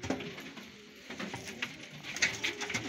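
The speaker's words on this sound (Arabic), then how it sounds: "هذول دبابني زرق من عشاق الدبابنا جدا" Blue Dababni pigeons cooing in a loft, soft repeated low coos close by with light rustling and pattering, no talk.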